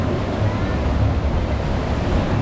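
Steady surf rolling in at high tide on Montañita beach in Ecuador, a continuous loud wash of ocean waves with wind rumble, no voices.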